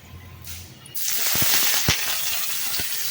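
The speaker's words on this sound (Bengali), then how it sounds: "রসুন কুচিটা দিয়ে দেবো। রসুনটাকে আমি লাল করে ভেজে নেব।" Chopped garlic hits hot oil with black cumin and starts to fry for potol vorta, a sudden hissing sizzle that swells and holds steady, with a few light clinks from the pan.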